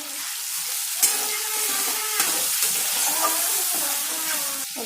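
A paste of whole cumin, ginger and cashew sizzles and crackles in a hot pan of oil, a loud continuous hiss with a few sharp pops and the occasional scrape of stirring.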